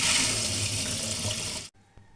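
Water from soaked glutinous rice is drained, a loud, steady rushing flow like a running tap that stops abruptly near the end, followed by faint residual drips and no speech.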